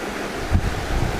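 A small waterfall on a trout stream near a campsite gives a steady, close broadband rush with some wind buffeting against the microphone and no voices.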